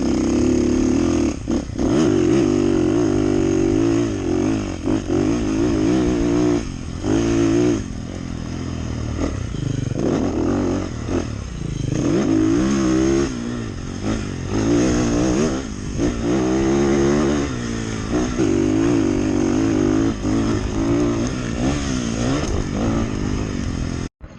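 A 2024 Beta 450RX dirt bike engine roaring steadily throughout a ride, loud and close with repeated rises and dips in revs, a constant droning tone with some clatter, no talking.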